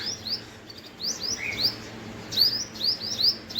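Many different small birds chirp busily near a squirrel, short bright tweets overlapping in bursts with a few brief pauses.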